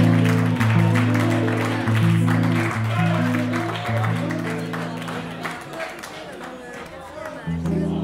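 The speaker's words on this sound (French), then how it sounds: "Allez, on l'applaudit bien fort." Audience applause for a singer from the group Jazz Voyage, moderate clapping blended with sustained music tones that fade partway through, the claps carrying on more thinly toward the end.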